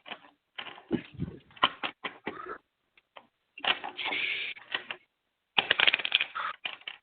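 A deck of tarot cards is shuffled in short, crisp riffling bursts separated by brief pauses. The sound is close and clear, with no talking over it.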